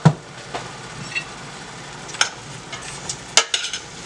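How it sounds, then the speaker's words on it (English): A pot seasoned with black pepper and salt being stirred, with intermittent scraping and clinking of a utensil over a low background sizzle, several sharper knocks near the end. "I just stir this up a couple of times"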